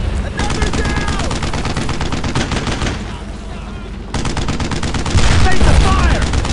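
Loud, sustained automatic machine-gun fire crackles in rapid, dense bursts through a WWII battle in the video game Brothers in Arms: Road to Hill 30, with voices shouting beneath the barrage.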